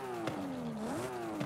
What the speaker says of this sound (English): You do get that turbo flutter.